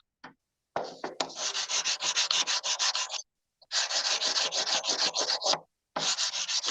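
Emery cloth rubbed over a mixed metal casting makes fast, steady back-and-forth scratchy sanding strokes, close and fairly loud, in three sustained runs separated by brief pauses.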